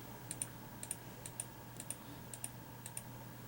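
Light computer mouse clicks placing points along a dental arch in imaging software, a steady series of paired, quiet clicks close by over a faint electrical hum.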